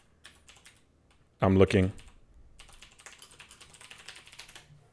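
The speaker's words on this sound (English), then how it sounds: "Actually, I'm typing." Computer keyboard typing: a rapid patter of light key clicks fills the latter half, after a brief burst of speech.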